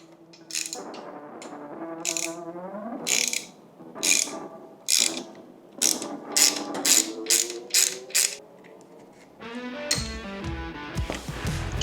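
Ratchet loosening bolts on the handlebar control housing for the horn and lights of a Harley-Davidson Forty-Eight Sportster, in repeated bursts of close, loud clicking with short pauses between strokes.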